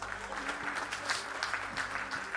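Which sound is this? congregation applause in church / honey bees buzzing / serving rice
congregation applause in church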